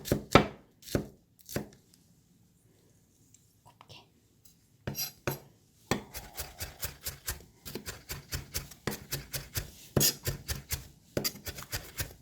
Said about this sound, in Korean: 자, 파를 곱게 써셔야 돼요.